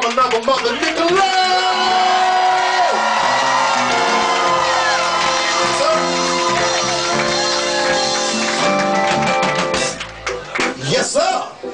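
A crowd at a party event in Charlotte shouts and cheers loudly, whoops and yells rising over a loud musical backdrop for several seconds before fading into scattered calls.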